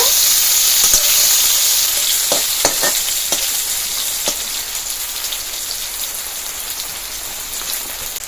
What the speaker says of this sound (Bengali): করলাগুলো উল্টে পাল্টে একটু লাল লাল করে ভেজে নেব।